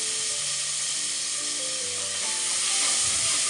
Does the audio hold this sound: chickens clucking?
no